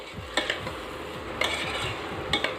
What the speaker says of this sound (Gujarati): જે મગની દાળ હતી તે ઉમેરવી એને આપણે મિક્સ કરી લઈશું